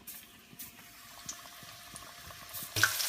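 Squid frying in hot oil, a low continuous bubbling sizzle with small pops, rising to a louder burst of spitting near the end, with no talking.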